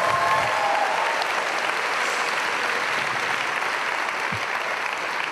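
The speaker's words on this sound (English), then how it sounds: "Let's give them one more round of applause." Audience applause at a student performance, steady broadband clapping filling the room for about five seconds at an even, sustained level with no voices over it.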